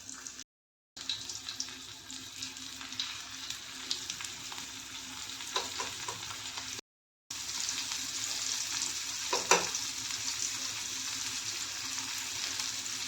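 Steady, close sizzling and crackling of coated fish frying in hot oil on a griddle pan, with a few soft stirring or scraping touches and no talking.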